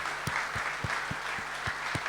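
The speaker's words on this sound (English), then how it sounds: "give all of yourselves a fantastic round of applause" Audience at the Tata Xenon Yodha launch event applauds in a steady, moderate wash of clapping with a few sharper individual claps standing out, no voices over it.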